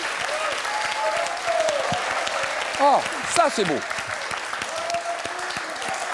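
A studio audience on a French television quiz show applauds in a steady, lively round of clapping while someone speaks briefly over it.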